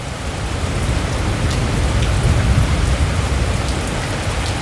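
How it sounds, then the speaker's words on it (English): Steady heavy rain pours down in a dense, continuous hiss with a low rumbling undertone, no voices present, at an outdoor motorcycle dealership bike show in Morrow, Georgia. "The skies opened up and it started to rain."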